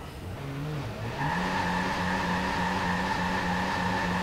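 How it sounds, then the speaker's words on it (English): A Cavale performs a burnout in Watch Dogs 2, its engine note climbing before a sustained, steady tyre squeal takes over and holds, loud and close with no voices. "Yeah, you can do a burnout."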